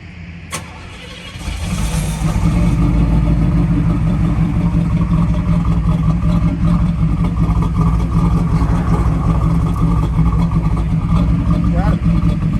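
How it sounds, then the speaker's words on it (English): A Pontiac Trans Am engine cranks on a cold start and catches, then settles into a steady, loud idle with a low rumble that continues to the end, with faint voices in the background at a car show. "I'm getting a cold start, guys, for you guys on this Trans Am."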